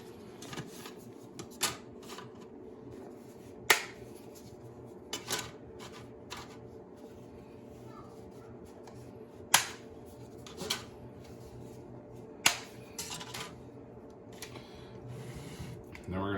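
Dry lasagna noodles snapped by hand into a small springform pan: a series of sharp, crisp cracks at irregular intervals, some louder than others, over a steady background hum, with a person talking between the breaks.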